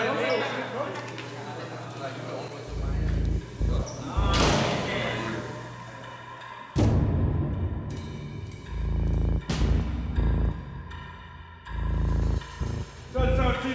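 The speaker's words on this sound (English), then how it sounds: "by shutting the door right there" A door at a jail outpost is shut with a heavy slam, followed by another loud metallic bang, while people talk around it.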